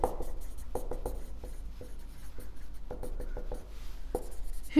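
Chalk or marker taps and scratches on a board in short, irregular strokes, close and clear, with no talk over it.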